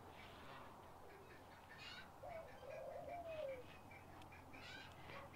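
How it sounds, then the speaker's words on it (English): A dove coos softly in a short rising-and-falling phrase, faint against steady outdoor background noise and a few distant bird chirps. "That's a happy dove."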